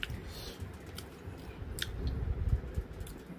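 Fried dried tora fish being chewed close up, soft crunchy bites and mouth sounds in a steady rhythm, quiet and alone.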